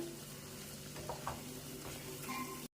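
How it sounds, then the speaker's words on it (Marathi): Masala spice paste for misal pav fries in oil, stirred until the oil separates, making a soft, steady sizzle with a few faint stirring clinks before it cuts off abruptly. "परतून घ्यायचं आहे पुन्हा पूर्ण मसाल्याला तेल सुटेपर्यंत"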